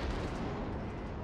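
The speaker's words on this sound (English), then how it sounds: "I'm gonna be firing AP" Armor-piercing shells fired from warship guns in World of Warships, from the destroyer Blyskawica: a brief, dense burst of booming, rumbling blast noise that fills the whole moment at close range.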